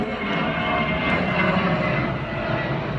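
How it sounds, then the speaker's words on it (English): An airplane passes overhead with a loud, steady engine roar that fills the air outdoors, with no voices over it. "As an airplane flies over my head, you can't hear me say what?"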